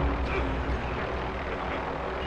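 Helicopter in the Call of Duty Warzone video game, a steady loud rotor and engine drone that fills the short clip without a break.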